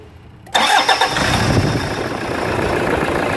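A pickup truck engine, worked on during a power steering oil change, starts abruptly with a loud crank and catch, then settles into a steady nearby idle.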